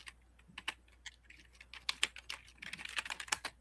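Computer keyboard being typed on nearby, irregular bursts of clicking keystrokes that quicken and cluster toward the end, with no talking over them.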